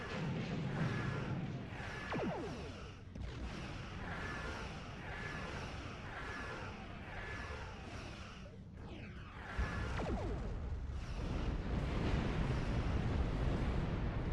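Explosions rumble without pause through a Star Trek Online space battle, loud and dense, with repeated whooshing blasts and a heavy low boom near the end. No one speaks.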